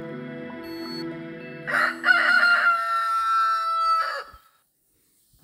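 A rooster crows once in the Egg, Inc. mobile video game, a loud drawn-out cock-a-doodle-doo over a light game tune that then cuts to silence.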